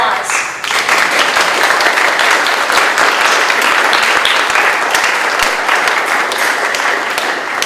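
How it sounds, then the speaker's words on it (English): Sustained audience applause fills a candidate forum for the 2022 Kauaʻi County Council race hosted by YWCA Kauaʻi, loud and dense clapping that continues steadily throughout. "Applause."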